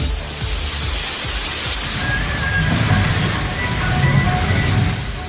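Heavy rain pours down over a town in Dharmapuri or Pudukkottai, Tamil Nadu, as a dense, steady hiss that stays loud and unbroken throughout.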